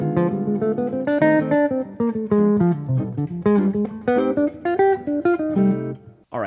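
A melodic jazz solo line over a minor chord moves in quick, articulate phrases with chordal support, played alone and close, with short pauses between phrases.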